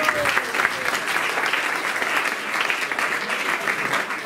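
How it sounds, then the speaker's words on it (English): A crowd at a Vyasapuja celebration for HH Kadamba Kanana Swami claps steadily, an even wash of applause that holds at the same level for the whole stretch with no talk over it. "I think we should have a round of applause just for that."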